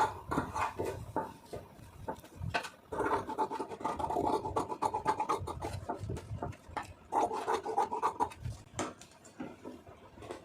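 Scissors snipping through blouse lining fabric to shape a neckline, a steady run of close, dry scratchy cuts and rustles with short pauses, no voices.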